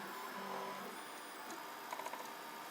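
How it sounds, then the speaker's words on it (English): A 3D printer fitted with anti-vibration bearings runs inside a soundproofed server cabinet enclosure, giving a faint, steady muffled hum with a brief cluster of soft ticks near the end. "Like an enclosure for my 3D printer. Does it help with noise? No."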